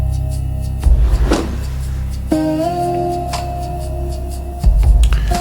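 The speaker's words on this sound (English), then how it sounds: "My door just opened by itself." A door swings open on its own indoors, a muffled knock or thud followed by a creaking, tonal squeal of the hinges, then another low bump as it settles, with no talking.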